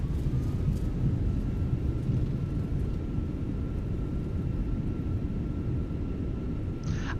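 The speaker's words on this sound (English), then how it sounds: "Rejected takeoff." A jet airliner in Microsoft Flight Simulator 2024 rolls through a rejected takeoff, with a low, loud, continuous engine and runway rumble that holds steady and is broken only by a short higher tone near the end.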